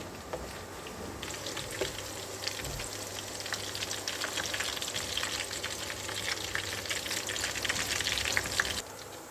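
Garlic frying in oil, a loud, continuous crackling sizzle that swells after the first second and keeps popping densely, close up, with no voices.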